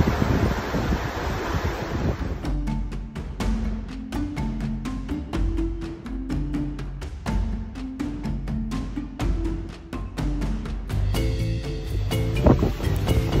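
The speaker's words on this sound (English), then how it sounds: "Listening to the sound of the ocean as we sail through the waters." Wind and ocean waves heard from the open deck of the cruise ship NCL Sky at sea in the Eastern Caribbean, a quiet, steady wash with gusty buffeting against the microphone and no voices.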